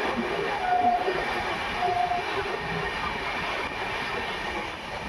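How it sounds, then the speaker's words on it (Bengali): Shantiniketan Express passenger train running from Howrah toward Bolpur as it slows, a steady low rumble and rolling wheel noise heard from inside the coach, even and continuous. "এখানে ট্রেন আমার অনেকটা স্লো হয়ে গিয়েছিল"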